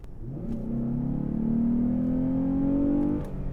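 A 2020 Lexus GS 350 engine revs steadily upward, its pitch climbing smoothly for about three seconds before dropping off; loud and close, with no voices.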